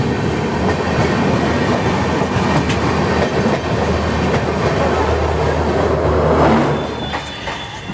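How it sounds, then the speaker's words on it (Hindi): Mumbai–Hyderabad Superfast Express 22732 running through Hadapsar station without stopping: close, loud continuous rail roar with rhythmic clickety-clack and faint wheel squeal, easing off slightly at the very end. "सो अभी हमारी ट्रेन स्किप कर रही है हड़पसर को"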